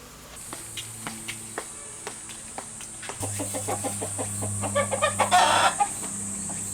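Farm chickens cluck in a steady run of short calls close by, with a rooster crowing in the mix and the clucking growing busier and louder toward the end as they are fed, over faint insect chirping.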